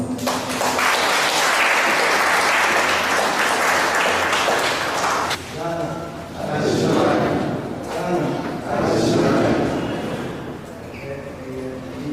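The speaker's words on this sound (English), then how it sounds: "A round of applause." Loud, dense applause from an audience at a Ghanaian community gathering in Tripoli, Libya, sustained for about five seconds before thinning into scattered clapping and crowd noise as a voice speaks.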